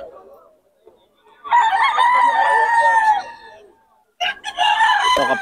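A Pumpkin Hatch gamefowl rooster from Bacolod crows loudly and close by, one long drawn-out crow followed by a second after a short pause, with faint talk before it.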